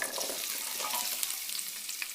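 Cut capsicum and carrot sautéing in hot oil, a steady bright sizzle with soft stirring scrapes throughout, fairly faint and with no talking.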